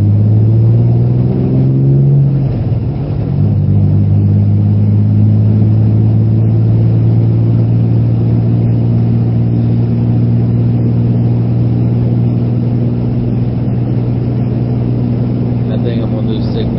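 Car engine droning steadily while driving toward the next road, a loud continuous low rumble with a brief shift in pitch early on, then an even hum throughout.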